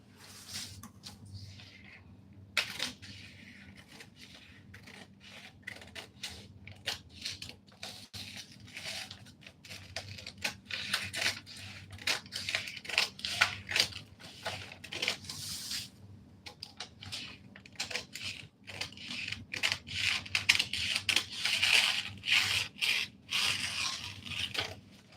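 Scissors cutting out a drafted paper pattern for a shirt dress, a long run of quiet snips and paper rustles and scrapes, denser toward the end, close up with no talk.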